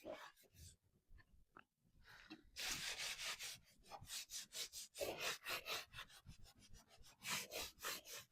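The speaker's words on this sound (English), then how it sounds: "Going to go ahead and sand it." Painted wooden furniture is sanded by hand with steady, rhythmic rasping strokes that grow louder and faster after a quieter start, close and continuous with no talk.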